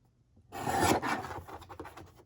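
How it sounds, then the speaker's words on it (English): A paper strip for a junk journal is trimmed with a short, close rasping cut that begins after a moment of near silence and fades into small rustles. "We're gonna trim it up so it's just the Friends."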